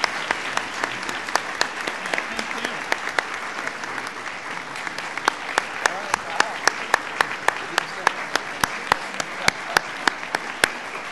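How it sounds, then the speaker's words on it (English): A conference audience applauds a panel of a governor, a university president and education leaders, a steady wash of clapping with some sharp individual claps standing out, continuing evenly to the end. "would you please join me in recognizing Governor Schweitzer, President Nellis, Dr. Saylor, and Superintendent Juneau for sharing your wisdom today"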